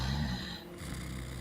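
A voice imitates loud snoring during a fantasy tabletop role-playing game session, giving one long rasping, breathy snore that dips briefly in the middle and then continues. No words are spoken over it.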